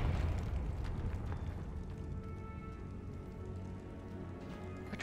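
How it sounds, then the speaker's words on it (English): A booming explosion from a video game fills the start, a deep roar that slowly settles into a sustained rumble and crackle over the remaining seconds. "Explosion!"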